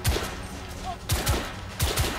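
Gunfire in the third-person shooter The Order: 1886, with several sharp shots in bursts spaced through the clip over a noisy in-game background, with no talk.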